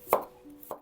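A knife chopping chili and cucumber on a board, two crisp separate cuts close up in a quiet kitchen.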